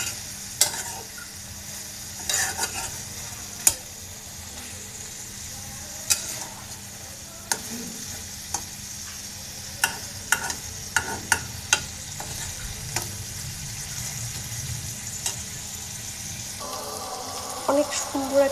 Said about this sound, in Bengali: এখানে কেটে রাখা মরিচ, তো এগুলো আমি সব দিয়ে দিব। একটু মিক্সড করে নেব।